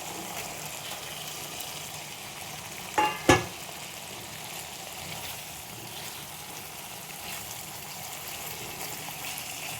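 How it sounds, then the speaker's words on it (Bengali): Small tengra fish fry in a pan with a steady, even sizzle and hiss throughout, broken once by a brief clatter of the pan. "এবার আমি মাছগুলো দিয়ে দেবো।"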